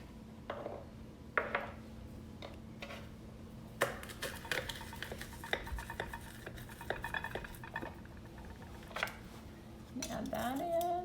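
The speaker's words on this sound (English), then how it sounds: "I'm gonna mince up 2 cloves of garlic" A kitchen knife mincing two cloves of garlic on a cutting board, producing a scattered run of quick taps and clacks with some clinking of kitchenware, close and moderately loud, over a faint background hum.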